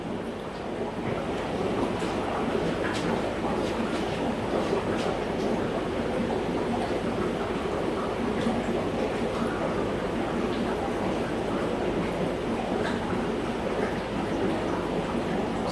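An air stone bubbles steadily in a fish tank, a continuous dense fizzing wash that stays loud and even from start to finish with no talk over it.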